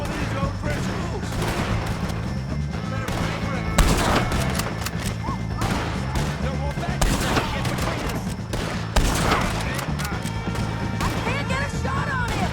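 A Red Dead Redemption 2 gunfight against O'Driscoll gang members, with repeated sharp gunshots and bursts of fire, loud impacts and crashes, and characters shouting over the shooting amid a busy, dense mix.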